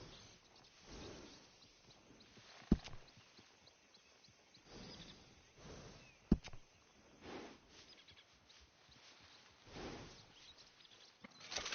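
Faint, scattered clops of a ranching horse's hooves in Red Dead Redemption 2, with a couple of sharp clicks and quiet ambience between steps.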